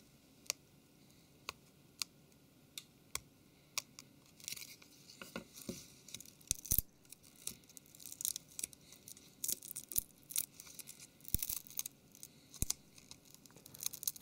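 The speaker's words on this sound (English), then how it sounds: "the adhesive is getting cold, it's getting more difficult to peel away" Adhesive peels off the screen of a Galaxy Ace S5830 phone in close, quiet, crackly tearing sounds. Sharp separate ticks come first, then denser crinkling bursts as the glue keeps pulling away.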